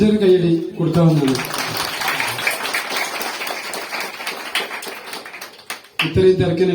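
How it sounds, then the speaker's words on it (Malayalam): Audience applause at a stage event in a Kerala village during a KSRTC village trip: a sustained burst of clapping lasting several seconds, bracketed by a voice speaking before and after. "നല്ലൊരു കൈയടി കൊടുക്കാവുന്നതാണ്."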